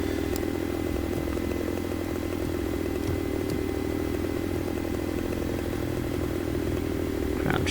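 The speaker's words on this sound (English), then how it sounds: "The good thing about the chainsaw is that it's with you all the time." A chainsaw in Farming Simulator 2015 runs continuously with a steady, buzzing engine drone while cutting a tree, loud and unbroken with faint clattering throughout.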